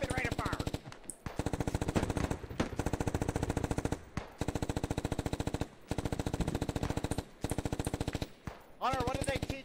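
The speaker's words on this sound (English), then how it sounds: "Rapid rate of fire." Rapid machine gun fire in the military shooter game Squad, long dense bursts of automatic shots broken by brief pauses, loud and close, with a few faint voices under the gunfire.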